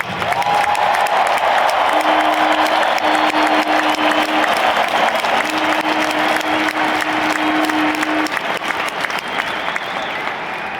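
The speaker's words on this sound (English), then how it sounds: "Can we please have a loud round of applause, ladies and gentlemen, for the great Robert Smith" A huge stadium crowd at the Metrodome closing ceremony applauds and cheers for former Minnesota Vikings player Robert Smith, a loud, continuous roar of clapping that holds for the whole stretch, with a faint sustained tone running through the middle.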